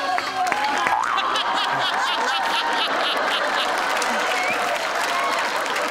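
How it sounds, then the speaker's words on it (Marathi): A studio audience at a Marathi comedy show applauds loudly and continuously, dense clapping filling the room with some chuckles mixed in. "मंडळी जोरदार टाळ्या पुन्हा एकदा."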